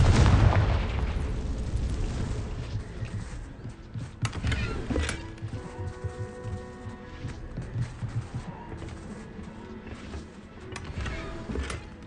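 A Confringo blasting spell in Hogwarts Legacy sets off a loud booming explosion at the start that rumbles and fades, followed by further sharp impacts and crackling game effects.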